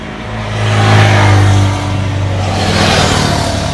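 A KTM Duke motorcycle passing on a road near a forest, its engine revving loudly and close, swelling to a peak and then holding a strong steady drone as it goes by.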